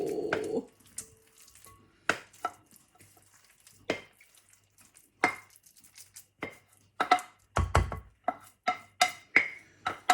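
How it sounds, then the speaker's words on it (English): Spoonfuls of thick Christmas pudding mixture drop into a basin in a string of soft, close clacks and thuds from spoon against bowl, irregular at first and then quickening near the end, with quiet moments between. "And then you're going to put all your lovely crimbo pudding on the top. Spoon it all in."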